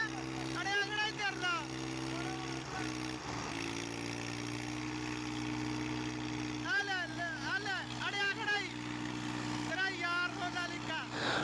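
Heavy tractor engines drone steadily and loudly under strain throughout a tractor pulling contest, with shouting voices rising over it at intervals.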